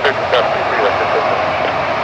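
An Air Portugal Airbus A321 jet takes off from runway 23 at Toronto Pearson, its engine roar loud, close and steady, with a voice talking over it.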